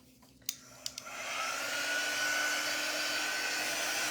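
A hair dryer drying a painted craft project clicks on after a few handling knocks, then settles into a loud, steady whirring blow that runs continuously.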